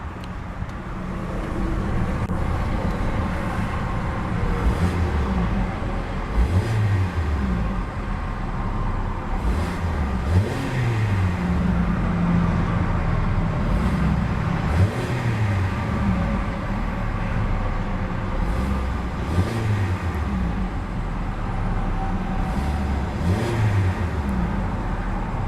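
The 2.4-liter four-cylinder engine of a 2015 Hyundai Tucson SE idles steadily and is revved up about five times at even intervals, each rise and fall in pitch clear and close, with no talking.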